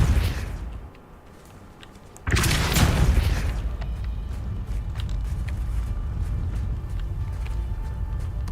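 A Depulso spell in Hogwarts Legacy shoves a heavy object down, heard as one abrupt, loud whooshing impact followed by a steady low rumble that lingers afterward.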